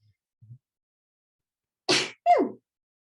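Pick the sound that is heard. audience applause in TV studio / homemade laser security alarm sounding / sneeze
sneeze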